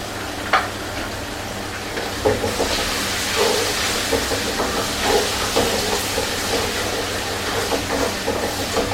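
Ginger sizzles in hot oil in a pan while black pepper beef is being prepared, a steady close crackling hiss with small pops throughout and no talking.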